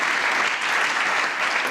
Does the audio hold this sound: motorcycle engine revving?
no